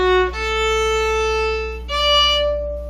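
Violin playing a slurred string-crossing passage in eighth notes, bowed tones sustained with a clear change of pitch partway through, heard alone at moderate loudness.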